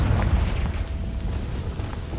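A Confringo blasting spell explosion in Hogwarts Legacy, a loud rumbling boom that erupts at once and rolls on as a dense, fading crackle.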